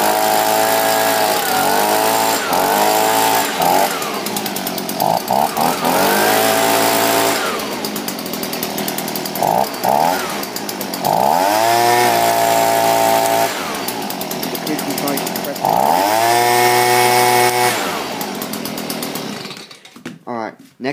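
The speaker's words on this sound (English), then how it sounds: "the blower usually takes 2 or 3 pulls before it starts" An Echo leaf blower's small two-stroke engine, just pull-started, runs close and loud, revving up and settling back repeatedly in surging waves before cutting off at the end, with a voice speaking over it at times.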